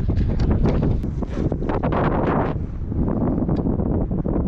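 Strong gusting wind roaring across the microphone of a skier on a ski run, loud and continuous with rapid buffeting pulses.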